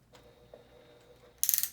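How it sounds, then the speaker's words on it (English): Sewing machine stitching a seam at a 1/2 inch seam allowance on a dress: a faint, steady mechanical whir for over a second, then a louder burst of rapid ticking stitches near the end. "Now you'll go to your sewing machine and attach them together, again at a 1/2 inch seam allowance"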